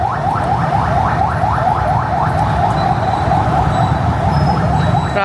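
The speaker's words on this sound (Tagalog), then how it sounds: "Ambulansya." A loud, wailing ambulance siren sweeps up and down rapidly and repeatedly, close by over a rumble of rush-hour traffic in Cagayan de Oro, Philippines.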